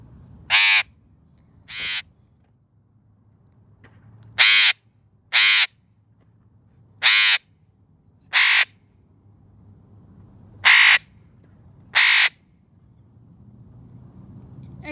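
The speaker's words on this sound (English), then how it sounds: "Are you a noisy parrot? There's no other Eclectus here to hear you." An Eclectus parrot outdoors in a park lets out eight loud, harsh squawks, each short and separated by pauses of one to two seconds, over faint background ambience.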